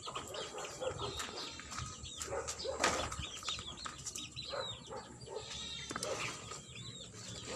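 Goats and other farm animals on a small Filipino farm after rain, scattered bleats and calls mixed with bird chatter and rustling, moderately close with no talk.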